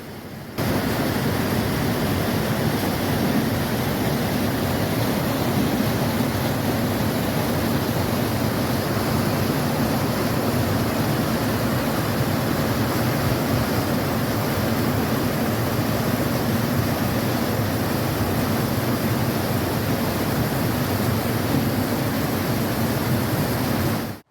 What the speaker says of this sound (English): This is the Big Thompson River.